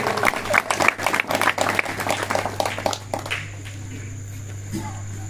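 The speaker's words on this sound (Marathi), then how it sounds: "आपण सर्वांनी टाळ्या वाजवून त्यांचं स्वागत करावे" Audience at a felicitation ceremony for an MLA in Paranda claps to welcome a guest, a dense burst of applause lasting about three seconds before fading to a steady low hum of a sound system.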